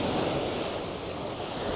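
Sea waves wash steadily onto Dongtan beach in Pattaya, a continuous, fairly loud surf roar mixed with light wind noise and no voices.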